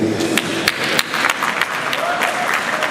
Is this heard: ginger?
no